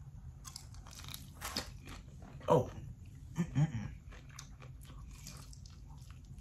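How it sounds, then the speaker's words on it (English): Crunchy fried chicken wings from Wingstop bitten into and chewed close up, with a few sharp crunches standing out over steady background noise and a brief voice exclamation. "It had about the same crunch with the last one I just ate."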